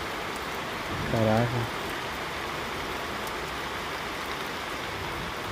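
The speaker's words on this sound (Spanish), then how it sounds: "aún así esté la lluvia a todo lo que da, ¿verdad?" Heavy rain pours steadily throughout a downpour outdoors, a dense even hiss, with a brief spoken exclamation near the start.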